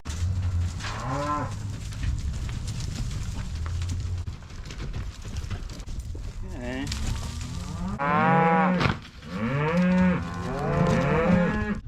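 Cattle moo loudly and repeatedly while cows are being separated from their calves, with long drawn-out bellows overlapping near the end against a rumbling farm background.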